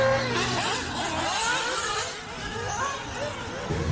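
A nitro-powered RC race car runs at a racing series event, its small engine buzzing and whining in rising and falling sweeps as it passes, with background voices mixed in.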